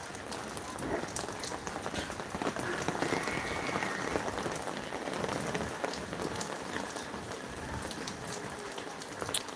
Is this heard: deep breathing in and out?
no